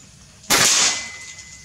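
An FX Crown air rifle fires one sharp, close crack at a needle target, ending in a brief fading tail against a quiet background.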